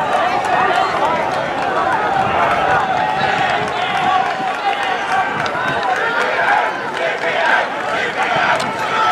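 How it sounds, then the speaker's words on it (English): Spectators at an outdoor high school track meet roar and chant continuously through a race, a loud, dense crowd wash with footsteps on the track and a commentator talking over it. "Hear the crowd chanting."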